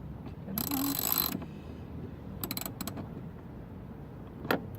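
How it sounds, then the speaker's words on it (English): A ratcheting socket wrench fitted with a 10 mm socket loosens a bolt on the passenger door handle of a 2007 Dodge Nitro. A fairly faint burst of rapid clicking is followed by a few short, scattered ratchet clicks. "Went ahead and I got a 10 millimeter head for the socket wrench. And just go ahead and take it off."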